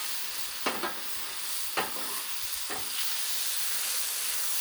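Mushrooms sizzle in hot ghee on a griddle with a steady broad hiss, broken by three sharp scraping stir strokes from a spatula; no one speaks.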